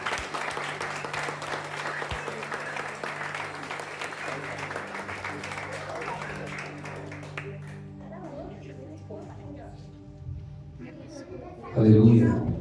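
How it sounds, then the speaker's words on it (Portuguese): Church congregation applauding in praise during a Sunday worship service, a dense steady wash of clapping that thins and fades toward the end, with music and voices underneath. "Das nossas palmas te louvam"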